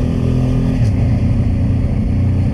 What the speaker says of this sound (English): that was probably the 5th or 6th Porsche I've seen today